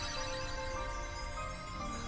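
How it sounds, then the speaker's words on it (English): A slow rendition of the main theme music from the video game Kingdom Hearts Final Mix, a steady sustained tonal passage playing at low level without talk. "I love how they play this really slow version of the main theme that you hear at the beginning of the game."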